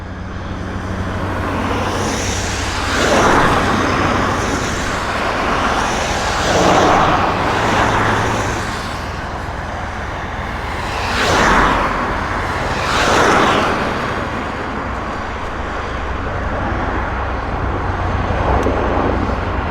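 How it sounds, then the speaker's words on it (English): A U.S. Army Black Hawk helicopter from Fort Lewis, Tacoma, arrives at the Abbotsford airshow, a loud, continuous rotor and engine roar that swells and fades in waves over steady background rumble. "we've got a U.S. Army Blackhawk helicopter coming up from Fort Lewis, Tacoma, Washington"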